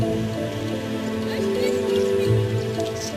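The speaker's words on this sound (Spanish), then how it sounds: "Era una lluvia incesante." Incessant rain falling in a steady, continuous patter on surfaces. A low musical drone plays underneath the rain.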